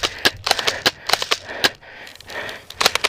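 Airsoft spring guns firing during a skirmish: a quick string of sharp, snappy cracks spread irregularly over a few seconds, close and fairly loud, with brief gaps between shots.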